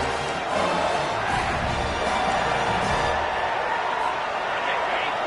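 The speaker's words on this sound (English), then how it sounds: "This crowd busting the decibel meter and trying to will a 4th down stop" Stadium crowd at an LSU vs Clemson football game roaring loudly and continuously late in the first half ahead of a 4th down play, a dense sustained wall of noise with no clear breaks.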